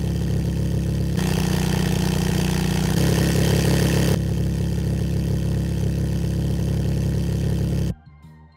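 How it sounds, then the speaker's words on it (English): A synthesized car engine from the Revvolution engine synthesis system idles steadily and loudly, a dense continuous drone with slight tonal shifts partway through, then cuts off abruptly near the end. "allows it to rapidly render on and offload engine sounds, together with the aforementioned revs and ramps"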